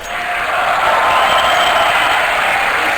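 A large crowd at a Counter-Strike esports grand final cheers and applauds in a sustained, loud roar, with a steady wash of noise throughout.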